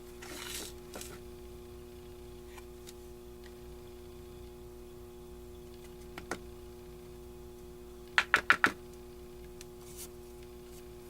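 A pine cone rubber stamp pressed onto a greeting card with a few quick, sharp taps clustered together, faint and close against a quiet room hum, with a single soft tap a little earlier.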